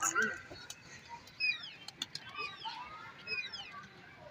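Pigeons chirp and call in brief bursts with a few soft wing flutters, moderately close, over faint background noise.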